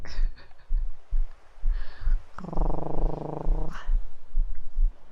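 A voice imitates a cat's purr, a steady buzzing rumble lasting over a second amid soft, scattered background noises.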